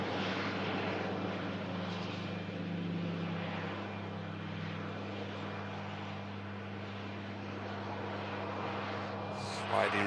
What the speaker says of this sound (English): Sliding reverser on the 73NG aircraft.